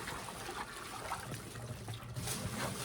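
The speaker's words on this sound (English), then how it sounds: "I'm going to let some of this water out." Water being let out of a container trickles and gurgles softly and steadily, faint and close, with no voices.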